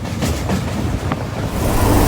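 A train running along the seashore just past Colombo Fort in Sri Lanka, a steady close rumble of the carriages with wind and surf-like wash mixed in, continuous and fairly loud throughout.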